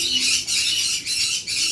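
Amazon parrot squawking loudly at close range in a home, harsh repeated screeches in three long bursts with brief gaps between them.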